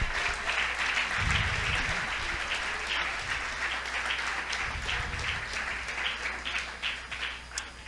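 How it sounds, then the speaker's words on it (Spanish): A church congregation claps for God after the pastor's call, a dense, steady wash of applause that fills the room throughout, with a few low thumps and faint voices mixed in. "Puede juntar sus dos manos y darle un buen aplauso a nuestro Dios"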